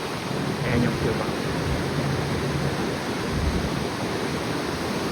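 Strong sea waves off Cuba, heard from a cruise ship, make a broad, steady roar of surging water with rough low rumbles throughout, loud and close, with no voices.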